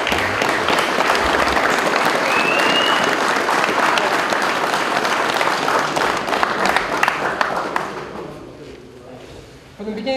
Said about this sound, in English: round of applause for my guys.